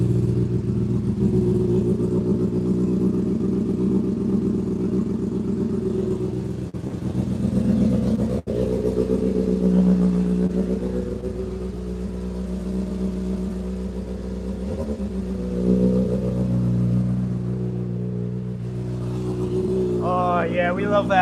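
A 2024 Honda CBR600RR sport motorcycle with full exhaust idles with a deep, loud, continuous rumble, swelling with throttle blips; brief talk joins near the end.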